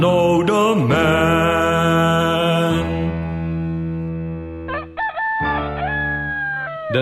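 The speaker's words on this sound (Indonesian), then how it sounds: "Dan segera ayam berkokok" A rooster crows loudly and close by, a long drawn-out cock-a-doodle-doo, followed by shorter wavering crowing calls, set within a dramatized reading of Peter's denial.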